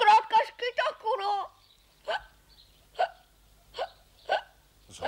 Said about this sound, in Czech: Mám zkrátka škytavku, no.